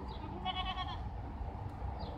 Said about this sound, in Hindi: और ये मेरी बकरी है।